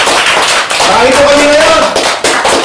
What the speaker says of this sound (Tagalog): isang matinding palakpak po mula sa mula sa inyo